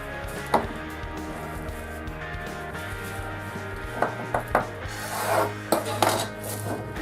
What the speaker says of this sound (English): We're going to take our nori sheet and we're going to cut it in half.